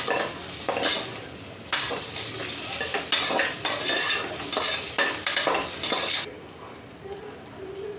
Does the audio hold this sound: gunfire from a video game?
no